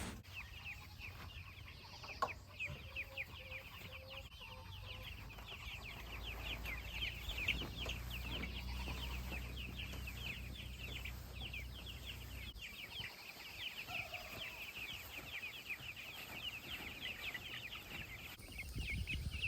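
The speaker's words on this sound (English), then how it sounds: "the current meat birds that we have right here, we got these from Murray McMurray. They're big red broilers." Big Red Broiler meat chickens cluck and chatter continuously from a backyard flock, with one louder squawk and a few faint wing flaps near the start.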